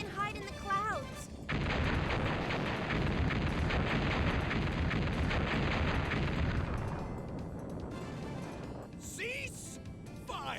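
Sustained barrage of gunfire and artillery from the Megaman Legends video game, a loud continuous roar of blasts lasting several seconds before cutting off, with speech before and after.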